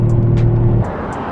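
A Toyota Mark II JZX100 with upgraded suspension drives along, its engine giving a short, loud, close steady drone that drops off partway through, with no voices.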